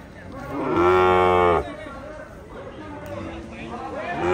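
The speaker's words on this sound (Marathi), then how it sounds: "आता बैला येत चालले फटाफट" A bull lets out one loud, close moo lasting under a second at a village bullock cart race in Dhamangaon, followed by the murmur and chatter of a big crowd of spectators.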